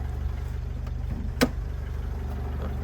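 A 2011 Opel Vivaro van's 2.0 diesel engine idles with a low, steady drone, an even rhythmic throb and a single sharp click partway through, no voices.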